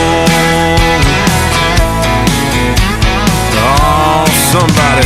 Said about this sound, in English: New country sounds like this.